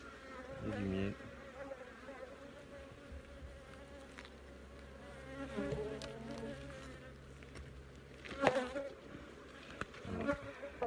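Honeybees buzz steadily at an apiary hive during a breeding-yard and swarm inspection, a continuous close drone with a few louder passes near the microphone and soft handling noises.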